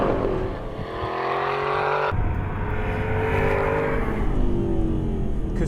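Aston Martin V8 Vantage S engine roaring loudly up close, a sustained rising rev that drops at a gear change and climbs again, with no talk over it.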